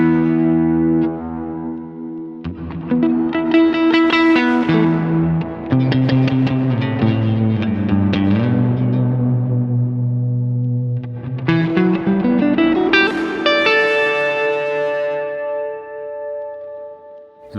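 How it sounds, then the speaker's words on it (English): Heavily distorted, lo-fi reverb from a Strymon TimeLine pedal washes over a sustained melodic synth or guitar line, gritty and smeared, with a long ringing tail at the end. "you can really get this kind of a lo-fi reverb that's being distorted"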